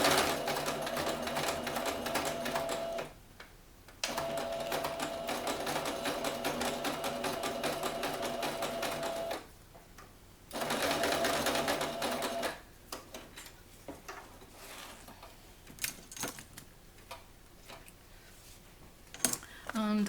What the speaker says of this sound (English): So just go to the sewing machine